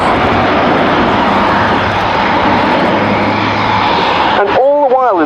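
An Airbus A400M Atlas military transport roars loudly and steadily through a takeoff and steep turn at an airshow, the engine drone near and continuous, then shifting into a wavering, pulsing whine at the end; a commentator talks over it.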